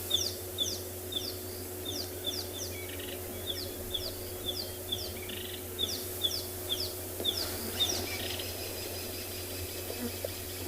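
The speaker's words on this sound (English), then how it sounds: "There's another cuckoo species." Repeated high, descending cuckoo calls ring out in short runs over a steady hum of outdoor background noise in South African bush, moderately distant and fairly clear.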